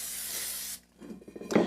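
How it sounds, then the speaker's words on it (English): Cooking spray hisses steadily from an aerosol can onto a shortbread pan in one close burst, then cuts off, followed by a few soft handling clatters of the pan. "the way you prepare these pans is just spray it with a little cooking spray"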